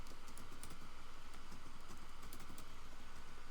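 A computer keyboard clatters as a command is typed into a MySQL command-line session, with a quick, even run of close, moderately loud key presses over a faint steady hum.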